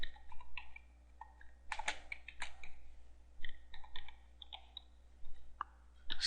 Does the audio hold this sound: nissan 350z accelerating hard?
no